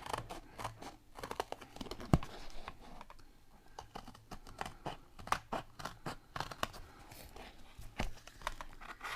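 Scissors snipping around a paper sticker backed with double-sided adhesive, with rapid, close, quiet crisp cuts and paper rustling in an irregular rhythm.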